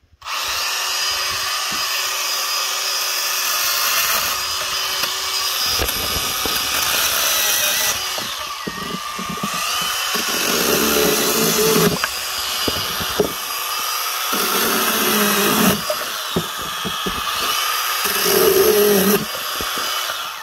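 A Milwaukee M12 cordless pruning saw runs at full throttle and cuts through wood, a loud, close, sustained motor whine that dips and strains as the blade bites, with no voices.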